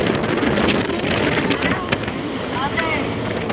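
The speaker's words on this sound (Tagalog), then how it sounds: "Sarap ng hangin." Steady wind gusting and buffeting a microphone outdoors on the coast of Leyte, continuous and loud throughout with faint voices underneath.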